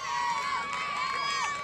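A crowd of Alabama team members cheers and shouts together at an old obstacle course, a steady, moderately distant roar of voices over a sustained high tone.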